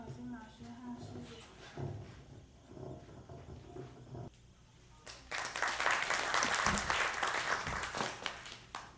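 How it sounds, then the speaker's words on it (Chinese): Audience applause welcomes violin, accordion and Electone performers at a concert hall, a dense burst of clapping that swells loudly after a softer, murmuring stretch and continues steadily to the end. "让我们掌声欢迎"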